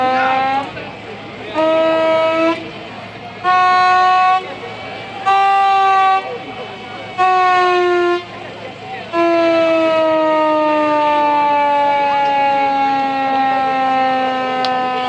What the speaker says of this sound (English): Looks like we've got a manual siren here.